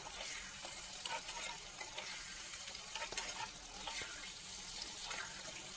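Chicken kosha being stirred in a pan with some liquid still in it, a steady low sizzle with soft scraping strokes throughout, close by and without speech.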